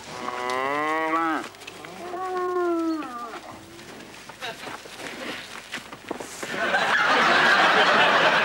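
Several long, deep cow moos sound close by in succession, followed by rustling and a burst of loud noisy movement.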